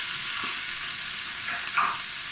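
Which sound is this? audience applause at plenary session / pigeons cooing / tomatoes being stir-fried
tomatoes being stir-fried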